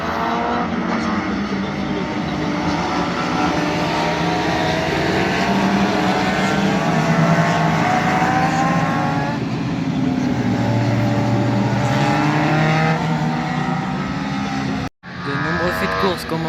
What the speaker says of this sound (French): Premier départ de la saison Sport Proto.